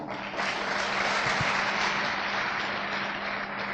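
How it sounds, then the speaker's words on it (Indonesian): A crowd claps steadily, a dense wash of applause that holds at an even level throughout. "Tepuk tangan buat Bapak Ferdinand Fadil."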